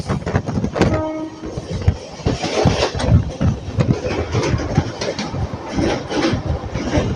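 A diesel or electric express train, the 12505 Anand Vihar–Kamakhya North East Express, rumbles past on Indian railway track near Koilwar, with loud steady wheel clatter, a brief horn blast early on, and continuous rolling noise throughout.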